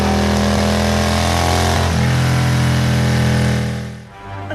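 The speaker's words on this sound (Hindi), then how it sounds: "चिंटू जल्दी स्कूटर स्टार्ट कर" A scooter engine runs loud and close with a steady droning hum, its pitch dropping slightly partway through before it cuts away near the end.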